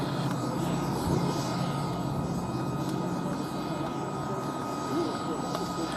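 Aerobatic display aircraft fly overhead at the Duxford air festival, making a loud, continuous engine roar that holds steady throughout.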